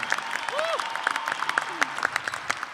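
A winter commencement audience at UNLV applauds for a color guard, the clapping dense but moderate in level, with scattered sharper claps and a brief whistle-like tone rising through it.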